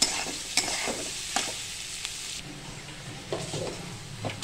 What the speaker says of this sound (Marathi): आता आपण हा कांदा चांगला मऊ होईपर्यंत परतायचा आहे